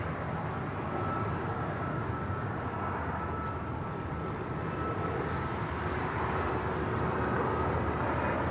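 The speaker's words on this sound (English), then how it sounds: "Next departure here on the south side, Air Canada Flight 551 heading to Vancouver in a 737 MAX 8" Air Canada Boeing 737 MAX 8 departing LAX, its jet engines a steady broadband roar that holds loud and even throughout, without a voice over it.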